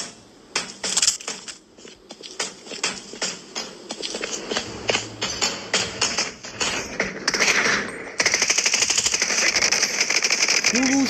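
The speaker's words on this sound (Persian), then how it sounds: "تو رو شلیک کردم نمرد." Gunfire from an online shooter video game crackles in rapid, close bursts, then turns into sustained automatic fire near the end.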